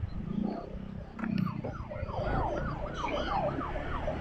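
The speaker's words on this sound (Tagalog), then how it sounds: "Gilid tayo kasi mayroong ambulansya." An ambulance siren wails nearby on a road while a rider travels by motorcycle, its repeated rising-and-falling sweeps loud and steady over low road and engine rumble, with no one talking.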